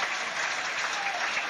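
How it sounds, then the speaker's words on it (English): Crowd applause at a 1996 Roland Garros clay-court tennis match, dense steady clapping from a large audience, fairly distant, sustained throughout. "there's Manolis Santana applauding very strongly"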